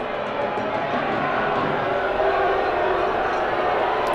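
A stadium crowd at a Detroit City FC versus Chattanooga FC soccer match makes a steady, broad roar with a loud, continuous wash of murmuring and jeering that shows no distinct peaks.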